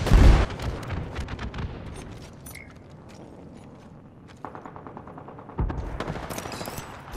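Bursts of automatic weapon fire in the Apex Legends shooter game, with loud rapid rattling volleys at the start and again near the end and quieter scattered shots between.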